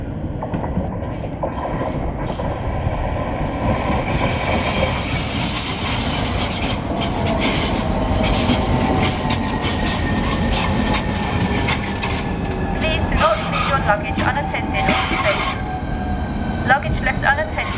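A Southeastern Class 395 train pulls into Margate station, its loud steady rumble mixed with wheel squeal and clatter, while station announcements play over the platform.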